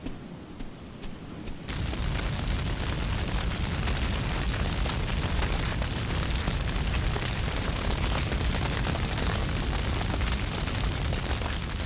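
Bushfire roaring continuously, a loud, dense crackling rush that builds in after a quieter opening of sharp pops and holds steady to the end.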